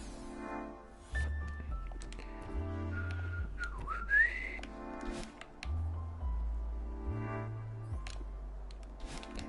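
A person whistles a simple tune while playing the video game Celeste, the notes rising and falling in short phrases with brief pauses over quiet game sounds, close and clear.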